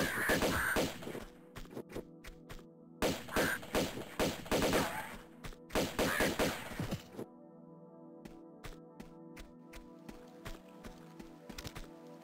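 Bursts of rapid gunfire at eagles in Tomb Raider II Remastered crackle in several loud volleys during the first seven seconds, then sparse single shots pop at irregular intervals.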